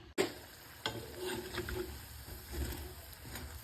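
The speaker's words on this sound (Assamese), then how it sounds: "পকৰীকেইটা ভাজি লওক" Pakoras frying in oil, a faint, even bubbling sizzle after a brief knock at the start, with a soft thump partway through.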